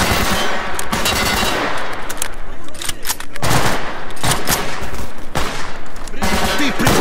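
Heavy gunfire in the S.T.A.L.K.E.R. GAMMA shooter, dense overlapping automatic bursts and single cracks with brief lulls, loud and continuous across several seconds, mixed with some voices.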